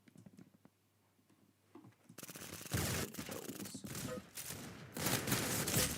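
Video game gunfire during a live-streamed play session: a quiet stretch with faint clicks gives way to loud, dense bursts of rapid automatic fire that roar on and off close up.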